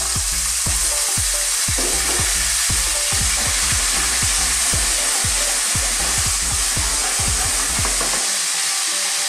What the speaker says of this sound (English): Getting that cooked is really going to infuse that oil, and those bits of ginger and garlic are going to taste beautiful.